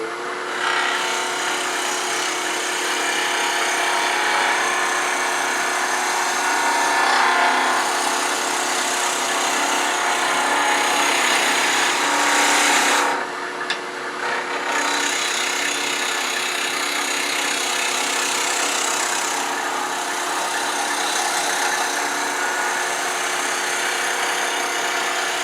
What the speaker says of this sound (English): with conventional tools, we can step up to a skew for a finishing cut.